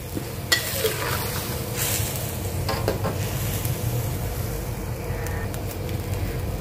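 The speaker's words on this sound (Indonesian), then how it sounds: "saya akan biarkan dia mendidih guys sehingga pecah minyak" Tomato-based sauce seasoned with salt and MSG simmers and sizzles steadily in a pan, a continuous close crackle with faint stirring scrapes and occasional clinks, no talking.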